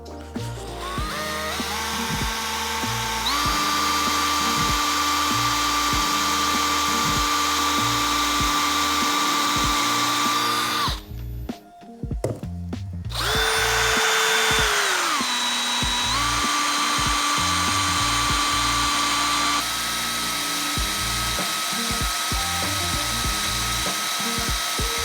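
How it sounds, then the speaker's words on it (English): A power drill bores a small hole in a pipe, whining steadily and loud up close for about ten seconds, pausing briefly, then drilling on again with shifting pitch as the bit works through. "Drilling nice and easy because it's such a small hole."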